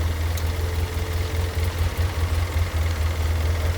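A diesel engine idles after a glow plug start on an early-winter cabin trip, its low, steady throb pulsing evenly up close.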